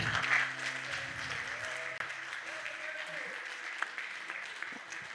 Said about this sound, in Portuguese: Uma salva de palmas pro Daniel, gente.